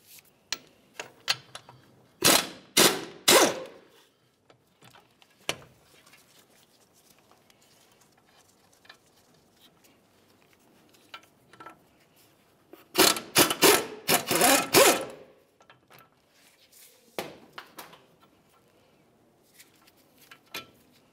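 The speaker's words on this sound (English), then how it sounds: "We'll loosen the top one, leave it in there a couple threads, fully remove the lower one." A ratchet loosening the 21 mm brake caliper bolts on a Dodge Dakota, with two long bursts of rapid, close clicking and several shorter ones separated by quiet pauses, no talking.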